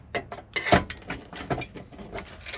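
Clicks, scrapes and creaks of plastic and a latch as a broken Jeep glove box, its button already snapped off, is twisted and pulled open by hand, coming in short irregular bursts up close.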